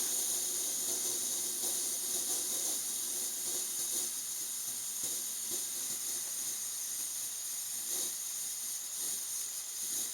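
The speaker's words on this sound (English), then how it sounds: "You can see that that flame is pretty much down to a simmer." An MSR WhisperLite Universal stove turned down to a simmer, burning with a faint, steady hissing roar that runs unbroken and alone, no voices.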